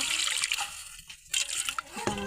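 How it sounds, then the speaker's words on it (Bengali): Half a cup of water poured into a kadai while making rice-flour pitha, heard as splashy, gurgling bursts with a short pause in the middle, close and fairly loud. "একটা কড়াই দিয়েছি যে হাফ কাপের মতো পানি দিব"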